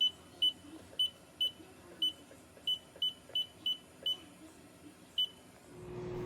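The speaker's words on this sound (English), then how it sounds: "now that it has been 10 minutes and the timer went off" A kitchen timer gives a string of short, high, evenly spaced beeps, about a dozen of them, over a low background hum. A brief shuffle follows at the end.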